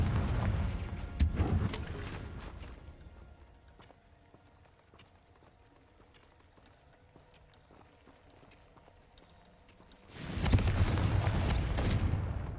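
Confringo blasting spell in Hogwarts Legacy, heard as loud fiery bursts at the start, then a long quiet stretch before another heavy explosive rumble near the end.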